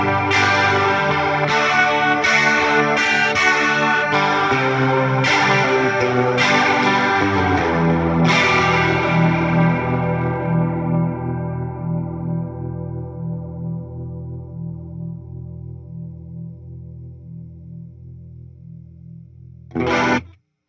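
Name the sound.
Fender Tone Master Pro stereo panner modulation on guitar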